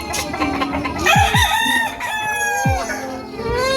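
A rooster crows loudly several times, its harsh rising calls overlapping with clucking hens and other fowl close by.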